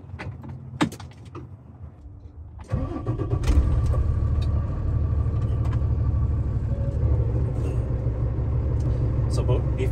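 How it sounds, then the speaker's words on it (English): A truck with a trailer attached is started up. After a few faint clicks and rattles, the engine cranks and catches, then settles into a loud, steady idle rumble that lasts to the end. "and then I can start the truck."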